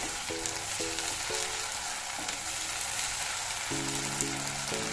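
Ginger garlic paste frying in a pan during egg dum biryani cooking, giving a steady, close broadband sizzle throughout, with low tonal hum bands coming and going underneath and no talking.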